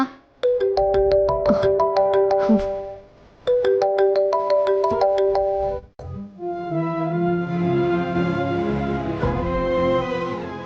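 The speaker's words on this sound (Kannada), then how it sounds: "ಅಮ್ಮವ್ರೆ, ಅವಾಗಿಂದ ಫೋನ್ ಬರ್ತಾನೆ ಇದೆ ಅಮ್ಮ." A telephone ringtone plays loud and close in a house, an electronic melodic phrase repeating twice, then shifting into a longer sustained tune with no voices.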